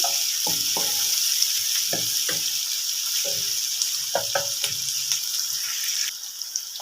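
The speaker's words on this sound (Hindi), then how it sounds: "प्याज को हम मसालों के साथ फ्राई कर लेंगे।" Sliced medium onions frying with spices in a pan, a steady bright sizzle throughout with intermittent clinks and stirring scrapes; the sizzle drops slightly near the end.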